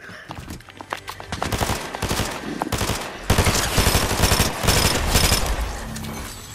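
Heavy automatic gunfire from a Fortnite match crackles in dense, rapid bursts, near and loud, with sustained volleys swelling and pausing across the whole stretch.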